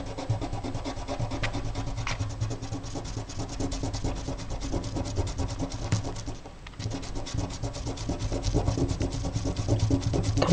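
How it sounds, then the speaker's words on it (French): Eraser rubbing dried glue off a handmade paper staircase card, a dense continuous scratchy scrubbing that runs steadily throughout with a brief pause partway, close and fairly loud, no voices. "on laisse sécher la colle et on gomme et elle s'enlève très facilement"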